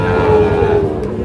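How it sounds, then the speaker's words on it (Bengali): A Sahiwal bull calf at a crowded cattle market gives a loud, close, drawn-out low moo that lasts over a second, with market noise behind it. "প্রচুর চাহিদা সম্পন্ন শাহিওয়াল জাতের ষাঁড় বাছুর যেখানে কেনাবেচা হচ্ছে"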